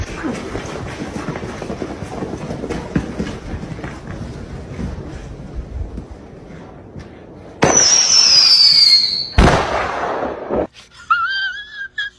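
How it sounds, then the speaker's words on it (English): Distant fireworks crackle and pop in a dense rumble, then a loud whistling burst shrieks overhead, followed by sharper nearby bangs and fizzing. "hear how many gunshots and firecrackers and fireworks go off"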